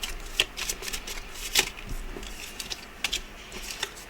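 Tarot cards being shuffled by hand, a soft papery riffling with irregular crisp flicks and taps over about four seconds, close and fairly quiet, with no talking.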